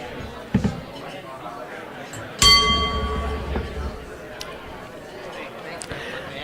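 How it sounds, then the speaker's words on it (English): A single bell strikes once at a Rotary Club meeting in Tucson, ringing out with a clear metallic tone that decays over about a second amid room chatter and background noise. "The bell has rung and it's time now to actually start the formal meeting."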